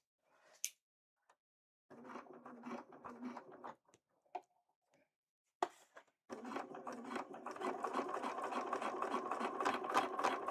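A sewing machine stitches fabric for a Link cosplay costume, starting with short stop-start runs, then a long steady whirring buzz of rapid needle strokes, close by, with pigeon-like cooing between bursts.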